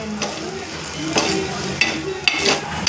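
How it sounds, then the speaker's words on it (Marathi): Grated coconut roasting in oil in a pan while being stirred, a steady soft sizzle punctuated by three or four sharper scraping strokes of a spoon against the pan. "त्यावर आता तेल टाकून घेऊ मस्त त्यांना पण ते गोल्डन करून घेऊया चांगले भाजून घेऊ"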